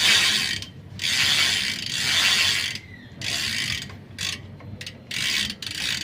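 A tool tightens a Shimano bottom bracket bearing on a bicycle with repeated bursts of quick ratchet clicking. Each stroke is separated by short pauses, close and clear with no speech.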